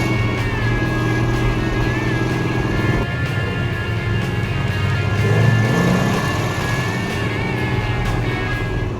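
A 1969 Dodge A12 Super Bee with a 390 horsepower V8 and 1,350 CFM carburetors rumbles loudly and close, a deep steady engine roar that swells slightly midway as the throttle opens.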